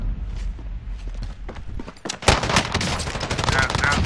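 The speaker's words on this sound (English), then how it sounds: "Machine gun versus pistol." Machine gun and pistol fire in the Warzone video game, with dense rapid bursts trading back and forth, heaviest in the second half, while a player talks over the shooting.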